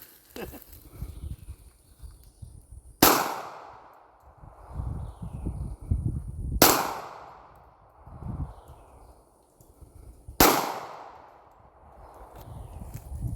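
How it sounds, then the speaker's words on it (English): Three sharp, loud pistol shots from a real Glock fired outdoors, spaced a few seconds apart, each with a short decaying echo, with faint background noise between them. "Now I'm gonna try it with the real Glock."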